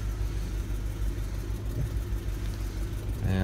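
Idling engine of a 2006 Dodge Durango SLT, a close, steady low exhaust rumble with a slight pulsing throb throughout.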